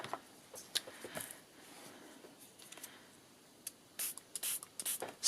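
Water sprays from a spray bottle onto ink on a piece of scrap card: quiet scratchy handling, then several short, close hissing spritzes in quick succession near the end.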